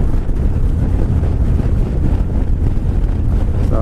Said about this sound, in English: So, the wind's not too bad today.